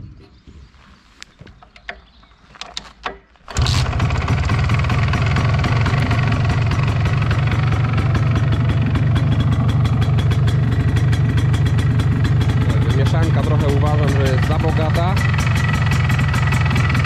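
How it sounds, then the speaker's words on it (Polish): An MZ ETZ 250 two-stroke motorcycle engine is kicked over and fires up after a few quiet knocks and fumbling sounds, then settles into a loud, steady, close idle with a rapid popping exhaust beat. "Maszyna ładnie chodzi, zaraz Wam ją odpalę, posłuchacie jeszcze, jak ona ładnie pracuje"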